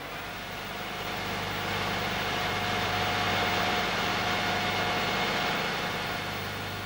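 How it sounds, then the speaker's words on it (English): A wheeled loader's diesel engine runs steadily in an underground workshop, a constant low hum and broadband roar with no talking. "He is taking exhaust samples from a wheeled loader."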